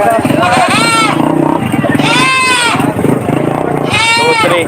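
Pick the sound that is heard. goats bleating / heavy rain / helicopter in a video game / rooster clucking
goats bleating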